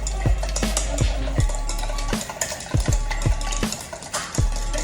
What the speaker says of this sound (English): We'll whisk that up